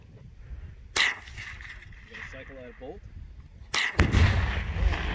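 Two sharp gunshots ring out about three seconds apart, aimed at a target up on a hill outdoors, each a loud close crack with a short echo. Voices talk quietly between the shots.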